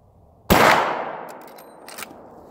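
A single sharp gunshot from a Marlin rifle firing a 43-grain wadcutter load, loud and close, with a short ringing decay followed by faint clicks.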